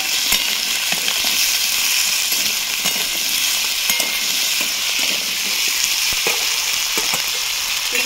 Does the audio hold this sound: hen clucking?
no